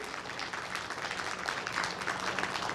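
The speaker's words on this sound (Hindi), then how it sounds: "इतनी जोर से ताली बजना चाहिए" An audience at a religious discourse gathering bursts into applause, a dense, fairly distant wash of many hands clapping that swells slightly toward the end.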